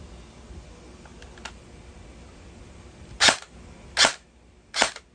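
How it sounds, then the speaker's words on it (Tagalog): A gel blaster fitted with an M90 spring fires three sharp single shots spaced under a second apart, each a crisp loud snap, after a few faint clicks in a quiet room. "ayun single shot ba diba?"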